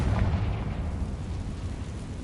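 A Confringo spell explosion in the Hogwarts Legacy video game, a brief low rumbling boom that fades into a dull, noisy tail, heard alone.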